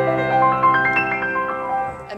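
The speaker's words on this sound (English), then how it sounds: "The Chopin Etude literally sounds like this when it starts." Piano playing the opening of a Chopin Etude, a short run of bright melodic notes over sustained lower tones, moderately soft and unaccompanied by talk.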